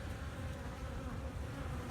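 Honey bees buzz as a dense, steady hum throughout a spring hive inspection, the swarm close and continuous with no voices over it.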